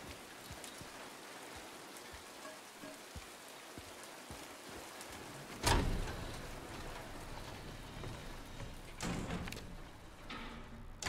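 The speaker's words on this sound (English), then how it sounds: "May 9, rain" Steady rain patters in the video game Silent Hill 2, a soft continuous wash of drops broken by a sudden louder thud and a few later heavier bursts.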